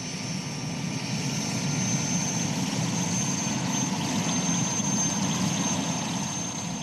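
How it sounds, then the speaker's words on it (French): Helicopters shuttling back and forth during a French commando operation in the Central African Republic, heard as a steady, loud, unbroken engine and rotor drone with no pauses. "les hélicoptères font la navette"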